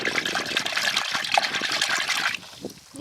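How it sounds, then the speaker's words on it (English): Raw wool fleece moved about by hand in a tub of soaking water, close splashing and trickling sloshes that ease toward the end, with no speech. "You just want to move it about a bit just to make sure that all the water's getting in"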